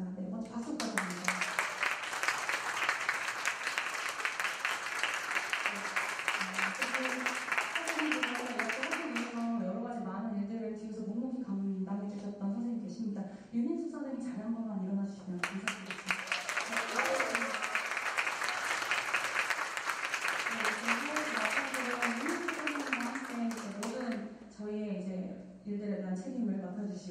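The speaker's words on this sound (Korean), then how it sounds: "네, 먼저 박수 부탁드립니다." Two long bursts of audience applause at a high-school student orchestra's regular concert, each lasting about nine seconds, separated by a stretch of a presenter speaking into a microphone, with talk returning at the end.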